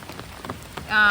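Heavy rain falls during a flood, with water rising toward a house at night; a dense patter of drops swells into a loud rush near the end of the short burst.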